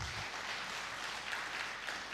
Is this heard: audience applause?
yes